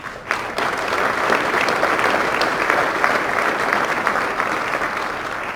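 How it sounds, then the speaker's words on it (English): Sustained applause from a gala audience greeting representatives of the UK embassy, starting abruptly and holding dense and even for several seconds, with individual claps crackling through a broad wash of sound. "Please give them all a round of applause."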